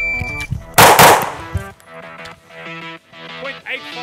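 A Beretta APX Centurion pistol fires two loud, sharp shots in quick succession on an outdoor range, the blasts bunched within about a second, with a voice talking before and after.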